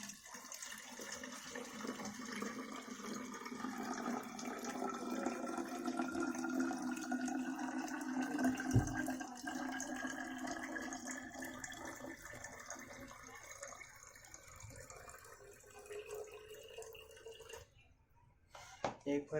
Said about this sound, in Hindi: बोतल में हमें करीबन इसकी आधा बोतल पानी भर देना।